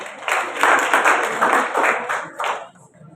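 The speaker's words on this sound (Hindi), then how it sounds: "एक बार इन बच्चों के लिए तालियां हो जाए।" Children and audience at a school science festival clap together, a dense, steady patter of applause lasting about three seconds with a brief dip near the end.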